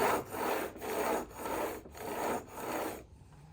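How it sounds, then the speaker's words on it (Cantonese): Guitar saddle being sanded on sandpaper stuck to an aluminium bar, a close, steady rasping in five back-and-forth strokes with short pauses between, stopping near the end. "再喺個鋁條上面黐砂紙嚟打磨"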